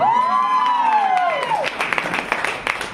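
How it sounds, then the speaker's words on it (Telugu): An audience at a motivational business talk breaks into clapping, a burst of scattered hand claps and crowd noise that builds after a sustained cheering or whooping voice fades out. "ఇంత చెప్పినా కూడా మీరు క్లాప్స్ ఇంకా సగమే కొట్టినారు"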